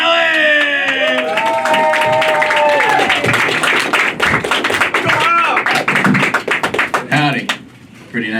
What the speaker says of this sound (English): Please make it loud for Robert Nellis!